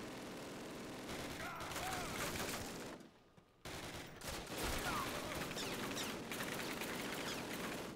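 Gunfire in the video game Call of Duty Classic, a dense, continuous rattle of rapid shots and distant booms filling the scene, breaking off briefly before resuming just as loud.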